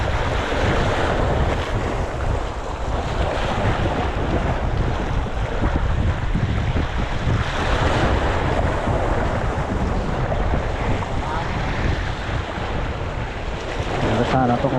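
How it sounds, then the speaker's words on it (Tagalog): Strong sea waves wash steadily around a small fishing boat, a continuous rushing roar mixed with gusting wind buffeting the microphone, loud and close throughout with no clear pauses. "Malakas na yung alon ah."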